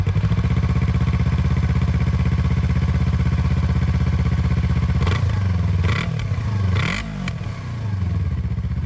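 A 2021 Yamaha YZF-R25 250cc sport bike idles with a buzzy, high-pitched drone up close, then revs sharply in several quick blips before falling back to idle.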